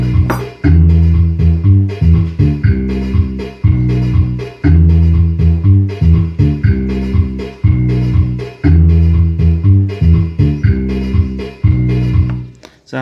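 A Boss Dr. Rhythm DR-670 drum machine plays a loud, steady programmed pattern with punchy kicks, snares and hi-hats repeating in a tight groove throughout, with no voices.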